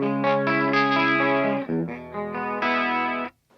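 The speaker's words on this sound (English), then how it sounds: "This does sound like a great chorus." Electric guitar run through the chorus effect of a Sonicake multi-effects pedal, a sustained, shimmering modulated tone with several chord changes, fairly loud and steady, then cutting off sharply at the end.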